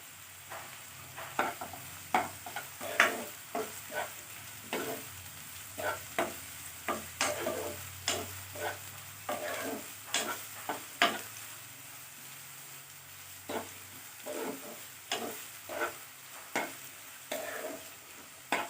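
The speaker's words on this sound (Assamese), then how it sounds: "আদা নহৰু কেঁচা গোন্ধটো যোৱালৈকে মই এইখিনি ভাজি থাকিম" Crushed ginger and garlic sizzle in a pan while a utensil scrapes and stirs in a steady rhythm of sharp, close scraping strokes.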